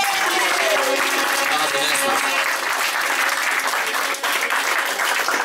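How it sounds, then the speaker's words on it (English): A loud crowd at the Brixton Ritzy gives sustained applause for the performer Crxy, dense and continuous, with voices and cheering mixed through it. "let me get one more round of applause for Crxy"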